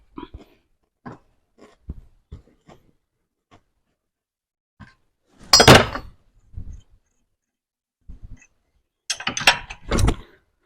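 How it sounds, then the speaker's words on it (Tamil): Loosening a nut on an old TVS bolt for a rotavator: scattered short metallic clicks and ratcheting scrapes, with a louder burst of wrench-on-thread grinding midway and another cluster near the end, close and otherwise quiet. "இந்த நட்டு கீழே 2 டாப் வந்துருச்சு அப்படின்னா இதை லூஸ் பண்ணிக்கோங்க"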